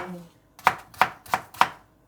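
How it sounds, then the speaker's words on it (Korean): A kitchen knife chops on a cutting board while preparing ingredients for curry, four crisp evenly spaced strikes, close and clear with no talking. "이제 칼질이 힘들어"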